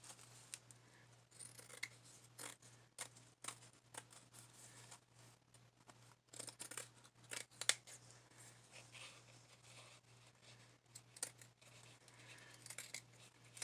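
Scissors cutting paper while journal pages are decorated: quiet, irregular snips and rustles spread across the clip, with a steady low hum underneath.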